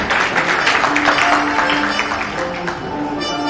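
Audience applause at a cricket talent-hunt player auction rises as a steady broadband patter of clapping, fairly loud and continuous, with a held tone underneath and no talk over it.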